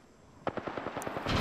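Automatic gunfire in the Apex Legends video game: a rapid burst of about nine evenly spaced shots, loud and close, starting after a quiet moment and ending in a denser roar.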